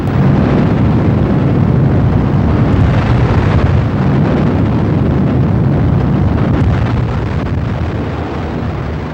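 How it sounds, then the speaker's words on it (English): A megaton nuclear bomb explodes in Operation Starfish Prime, 248 miles above Earth: a loud, sustained, broad roaring rumble that holds steady for the whole stretch and eases slightly at the end, with no voices. "the exploding of a megaton nuclear bomb 248 miles above Earth"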